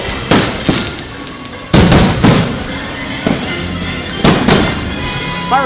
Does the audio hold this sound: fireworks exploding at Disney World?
yes